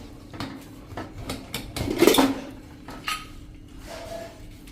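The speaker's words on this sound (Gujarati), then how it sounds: "તો હવે આપણે ખોલી લઈએ કુકર" Pressure cooker lid being opened and lifted after boiling green peanuts, close metallic scraping and clanking with one louder clatter in the middle, no talk.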